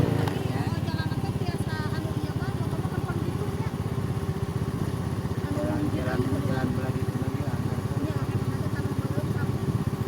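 A Yamaha Mio motor scooter riding toward Gunung Padang in southern Cianjur, its engine droning steadily and loudly under wind and road noise, while people talk over it throughout.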